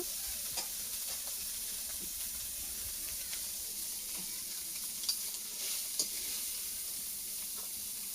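Prawns fry in hot oil in a wok for a Bengali prawn curry, giving a steady bright sizzle with a few soft clicks of stirring throughout and no talk.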